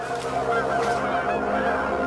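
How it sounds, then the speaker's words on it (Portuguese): A flock of geese honking, a continuous overlapping chorus of nasal calls held at moderate distance for a couple of seconds. "Alguns sugerem que foram gansos."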